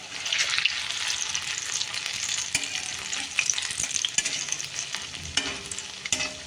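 Bhedailota leaf pakoras fry in hot oil in a pan while a utensil stirs and turns them, giving a steady close sizzle broken by scraping clicks, with no talking.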